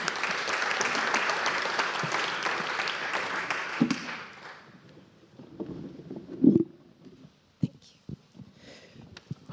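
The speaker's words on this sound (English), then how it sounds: "So please join me in an applause as she enters the stage and joins me." Audience applause greets a guest walking onstage at a brands and journalism workshop session, a broad clapping wash for about four seconds that fades into scattered low sounds and bumps.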